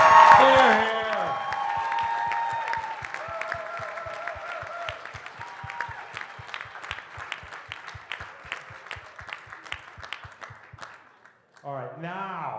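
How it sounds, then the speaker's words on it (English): Guests seated at a bar during a fundraising evening give a round of applause, steady clapping with cheers and whoops that fade, followed by a voice cutting in at the end. "Big round of applause"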